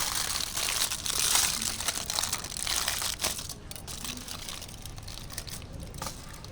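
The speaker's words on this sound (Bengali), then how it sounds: "এখানে আমি একটা নিয়ে নিয়েছি অ্যালুমিনিয়াম ফয়েল তো এটাকে আমি এর উপর দিয়ে কভার করে দেব" Aluminium foil crinkles and crunches close up as it is pressed and crumpled over ice cream moulds for raw mango ice cream, a continuous papery rustle that swells early and then settles into softer crackling.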